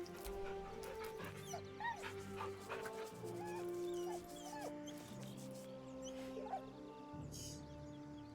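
A dog in Baldur's Gate 3 barks, yips and whimpers in short repeated bursts, fairly close, with no talk over it.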